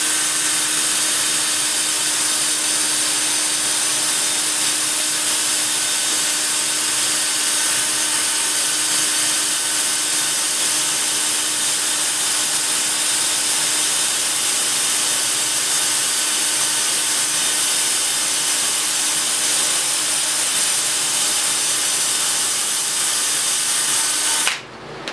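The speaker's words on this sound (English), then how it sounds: "I'll do my sanding and then I'll come back." A power sander works on a dyed wooden bowl, running steadily and loudly for the whole stretch, a constant high whine with abrasive rasping, cutting off abruptly at the very end.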